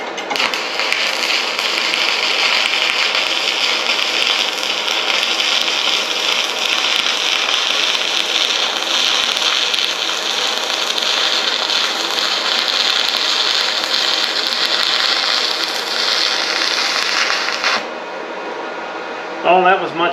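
Sustained crackling hiss of a 135E stick welder laying a bead, steady and loud for about eighteen seconds before cutting out abruptly.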